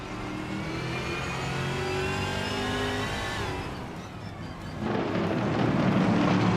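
Racing car engines roar in a racing video game as the cars launch off the start line, a continuous loud revving drone that swells and shifts in pitch as they accelerate.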